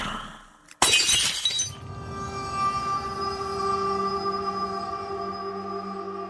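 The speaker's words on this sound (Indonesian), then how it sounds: "terdengar suara benda jatuh dan pecah." A sudden loud crash of an object falling and glass shattering in a horror game set in an old house, a sharp burst followed by ringing, tinkling fragments and a long sustained tonal hum.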